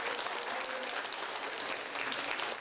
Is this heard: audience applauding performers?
yes